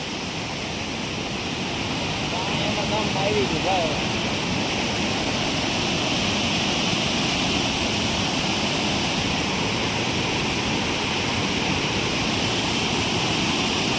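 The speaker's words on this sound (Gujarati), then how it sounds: "ઉપરથી પાણી પડતું હોય ને" A steady, broad roar of water pouring over an overflowing dam, Khodiyar Dam, continues loud and unbroken, with a brief voice speaking faintly beneath it.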